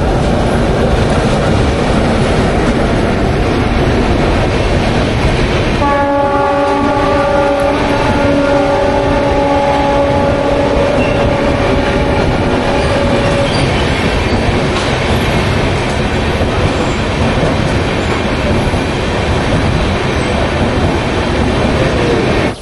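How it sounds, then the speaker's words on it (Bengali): The Mitali Express passenger train rumbles loudly past on a railway line near the border, wheels clattering steadily throughout, with a sustained horn blast sounding partway through. "আসছে মিতালি এক্সপ্রেস।"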